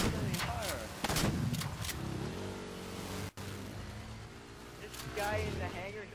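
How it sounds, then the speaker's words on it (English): Gunfire in the Halo 4 video game rattles out in several loud bursts amid engine noise, with excited players talking over the action throughout. "Shots fired."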